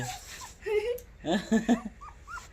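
Young puppies whimper and yip in short, high, wavering cries, several overlapping calls close by in a home courtyard, with a voice talking faintly underneath.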